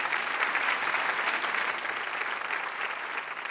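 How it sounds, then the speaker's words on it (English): Steady, full applause from a comedy club audience in South Delhi after a comedian's set, a dense wash of clapping that stays loud throughout and eases only slightly at the end. "what you guys just gave me was a normal, polished, sophisticated South Delhi applause"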